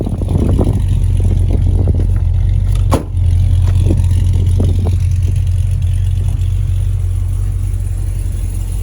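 A supercharged 2013 Cadillac CTS-V idles close by with a deep, steady rumble. Several short throttle blips break through it, with one sharp burst near the middle.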